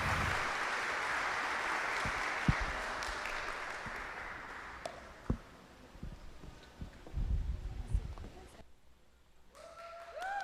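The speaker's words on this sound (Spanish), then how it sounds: "Vamos a darle un aplauso al Señor" Steady applause from a church congregation fills the first half, fading into scattered claps and room noise before a voice begins speaking.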